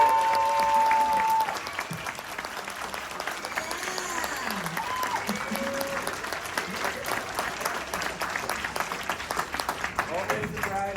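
A convention panel audience at a Hellraiser cast event applauds another arriving cast member with steady, even crowd applause through the whole stretch, beginning over a brief voice.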